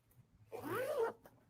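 A zipper on the pocket of a sewing project is drawn open in a single quick rasping pull, close but quiet, set in a sewing studio.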